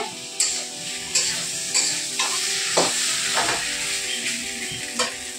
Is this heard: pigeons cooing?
no